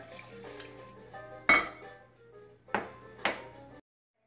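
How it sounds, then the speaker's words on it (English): Iced coffee is poured into a blender, with a faint liquid trickle broken by three sharp clinks of ice knocking against the jar, close and otherwise quiet. "the last thing we're going to put in is a cup of iced coffee. Be careful when you're pouring it in so it doesn't splash everywhere."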